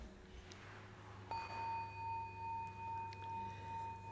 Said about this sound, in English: Bells sound